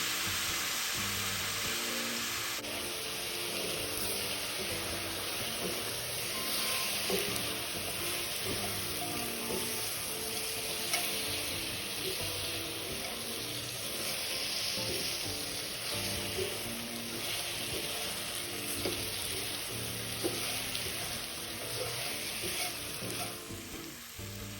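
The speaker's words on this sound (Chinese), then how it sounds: "然后加入生抽2大匙，1大匙老抽，再一起拌炒均匀" Pork belly with rock sugar, light and dark soy sauce, and lemongrass sizzles steadily in a wok, a continuous close frying hiss with the scrape of stirring throughout.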